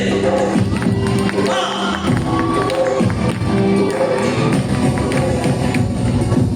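A school audience claps for a returning guest, a former pupil, in a loud, steady patter of many hands that runs without a break, mixed with scattered cheers and crowd noise.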